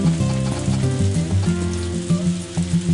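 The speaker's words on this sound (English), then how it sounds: "Well, it's still raining." Steady rain patters in Harvest Moon: A Wonderful Life, a soft, constant hiss beneath cheerful game music with a bouncing melody that plays continuously over it.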